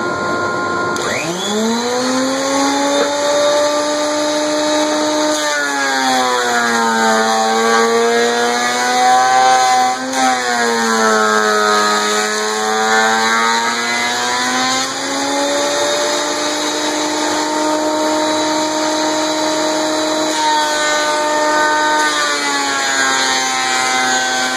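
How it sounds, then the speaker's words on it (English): A thickness planer feeding wooden cutting board stock roars continuously with a high, whining motor pitch that dips and recovers as each board takes the cut, loud and close with no voices. "After we've ran all the stock through the planer, we've got 2 flat faces."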